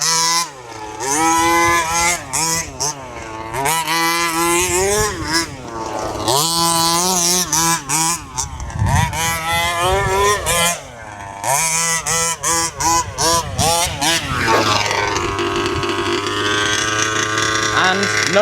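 A huge gas-powered RC car engine revs loudly and continuously, its buzzing whine rising and falling in pitch through repeated throttle bursts, close to the listener.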